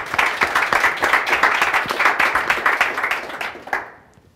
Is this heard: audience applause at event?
yes